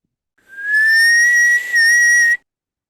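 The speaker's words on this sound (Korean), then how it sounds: "요번에는 내 휘파람 소리를 한번 내가 FFT 해보겠다" A single clear, steady high whistle around 1700 Hz held for almost two seconds, with a brief dip in the middle, loud and close in a quiet room.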